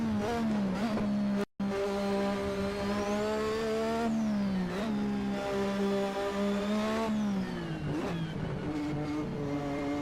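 Race car engine in the Assetto Corsa video game, repeatedly blipped and revved with a steady high drone and rising and falling pitch swings, played alone without talk.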